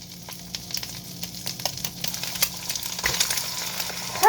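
An egg fries in a pan on medium heat, giving a steady close sizzle and crackle with small pops throughout, growing slightly busier toward the end.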